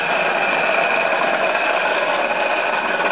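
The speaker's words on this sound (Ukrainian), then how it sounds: "Ця горілка. Тут вентилятор." Gas forge burner roaring steadily with its blower fan running, a constant loud broadband rush with a faint tonal hum, continuous and close with no pauses.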